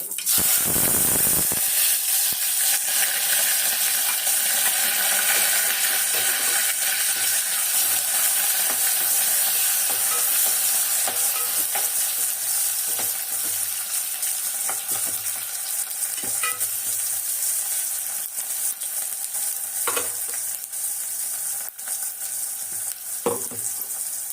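Mustard seeds, curry leaves and onion fry in hot oil with a loud, steady sizzle and hiss, broken by occasional sharp pops and spatula taps.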